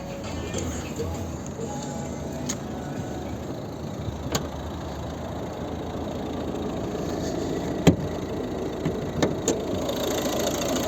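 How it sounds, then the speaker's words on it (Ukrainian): A 2011 Volvo V50 facelift with a 1.6 diesel engine idles steadily and quietly with the bonnet open, a low even hum broken by a few light clicks and taps. "Так, ось робота двигуна."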